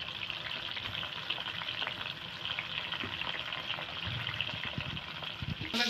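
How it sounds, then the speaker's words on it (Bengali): Pieces of pointed gourd (potol) fry in hot oil in a pan, giving a steady, quiet sizzle and crackle with a few sharper pops near the end. "পটল দিয়ে ভেজে নিই প্রথমে।"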